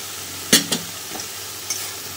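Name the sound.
ground spices sautéing in oil with ginger and garlic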